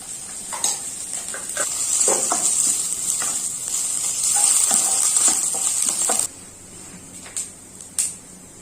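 Ginger-garlic paste dropped into hot oil in a frying pan sizzles steadily, with stirring and scraping over it, until the sizzle cuts off and a few quiet clinks follow.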